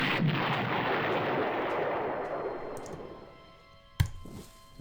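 Artillery fire in the Panzer Corps strategy video game: a long rolling boom fades slowly over several seconds, then a sharp, louder report cracks near the end.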